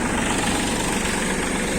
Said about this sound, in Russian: Ну, моторчик сразу посмотрим. Работает мягко. Без шума.